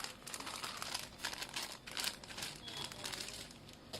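A plastic bag from a tie-dye kit crinkles and rustles continuously in close, busy bursts for several seconds.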